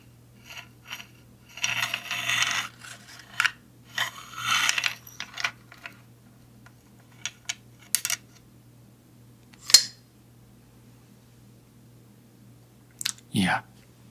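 A rifle's bolt, bolt carrier and gas tube are handled up close, giving soft metallic clicks, slides and light clinks in scattered bursts with quiet gaps between them, plus one sharp snap near the end.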